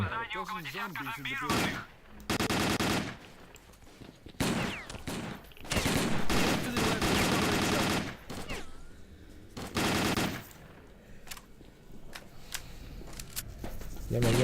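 Gunfire in the video game S.T.A.L.K.E.R. Call of Pripyat comes in loud, dense bursts of automatic fire, repeated across the stretch with brief gaps, and someone talks between some of the volleys.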